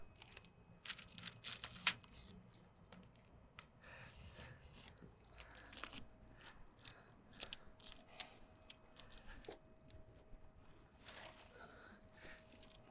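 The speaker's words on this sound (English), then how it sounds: "We're gonna start pulling this masking off here." Masking tape is peeled slowly off a freshly spray-painted surface, making faint, close, intermittent crackling and tearing amid light handling noise.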